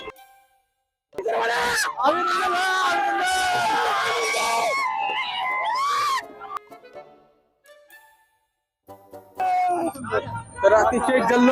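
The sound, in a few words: crowd cheering at an election victory celebration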